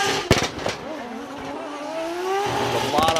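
2JZ-swapped GR86 drift car at a Formula Drift Japan event, exhaust popping and crackling in sharp bursts over a sustained engine wail with tires squealing, loud and close.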